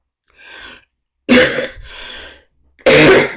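Several harsh coughs up close, two softer ones followed by two loud, forceful bursts separated by short pauses.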